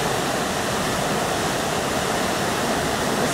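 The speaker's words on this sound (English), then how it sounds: "This is the lower level of the Cascade Mountain Waterfall." The lower level of the Cascade Mountain Waterfall, among cedars growing from rock, gives a constant, loud, even wash of cascading water with no breaks and no talking.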